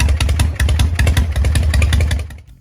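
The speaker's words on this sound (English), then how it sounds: "He designed a two-cylinder engine called the V-twin," A Harley-Davidson two-cylinder V-twin motorcycle engine runs with a loud, close, uneven loping beat of rapid pulses. It cuts off abruptly near the end, and no one speaks over it.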